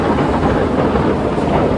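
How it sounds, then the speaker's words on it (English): Steady, loud rumble and clatter of vehicles crossing a temporary army bridge, recorded close with no talking. "that noise is the army bridge that you have to cross to get here"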